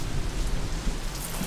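Rain pours steadily outdoors, a dense, even wash of drops with a low rumbling undertone, heard alone for a brief moment.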